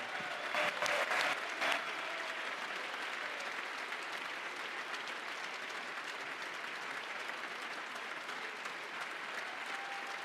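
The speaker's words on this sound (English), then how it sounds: "you're hearing applause right there for Georgia Governor Brian Kemp" Sustained applause from a crowd at the Georgia governor's state of the state address, steady and dense throughout, slightly louder and sharper in the first couple of seconds.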